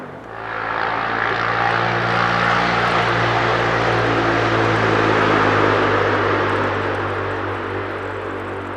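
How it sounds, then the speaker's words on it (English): Pump for a garden pond with a DIY biochar bog filter, a steady broad droning hum that swells in and holds evenly for several seconds before easing slightly. "I'm just going to turn on the pump."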